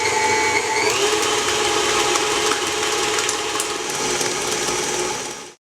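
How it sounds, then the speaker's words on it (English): A stand mixer with a paddle attachment beats cream cheese and caster sugar for a raspberry cheesecake, giving a steady, loud, close motor whir with a gear-like rattle, a slight pitch rise early on, and no talk until it cuts off abruptly. "now I'm just going to beat this until smooth with a paddle attachment"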